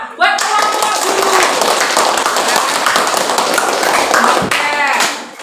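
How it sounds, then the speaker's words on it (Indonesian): Classroom applause for a group of teachers: a dense burst of many hands clapping, steady and loud for about five seconds before tapering off, with a voice or two briefly audible in the mix. "Tepuk tangan dong buat kelompok guru."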